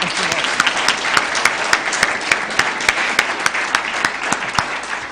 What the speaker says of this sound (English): So a round of applause for our finalists.